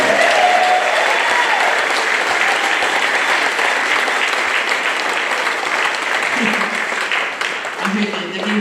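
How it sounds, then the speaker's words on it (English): An audience at a church conference celebration applauds, a dense, sustained round of clapping from many hands filling the room, fading slightly near the end as a voice begins to speak. "We'd like to give another round of applause as well."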